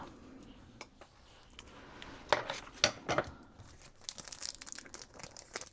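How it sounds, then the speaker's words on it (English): Scissors snip the edge of plastic toy packaging for a Miniverse birthday rainbow piñata, with a few crisp close cuts and crinkling plastic amid quiet handling sounds. "so I'm going to use my scissors"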